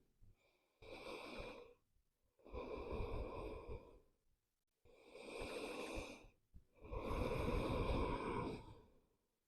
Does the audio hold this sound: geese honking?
no